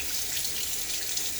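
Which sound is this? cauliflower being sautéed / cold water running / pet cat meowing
cold water running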